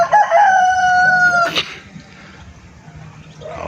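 Chickens and ducks kept as backyard poultry, with a loud rooster crowing once close by for about a second and a half, followed by softer clucking and fowl noises in the background.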